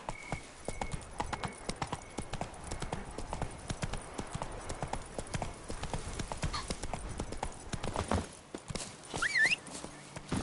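A horse gallops in the video game The Witcher 3, its hooves beating in a fast, steady clip-clop rhythm, close and moderately loud, ending with a short whinny-like sound near the end.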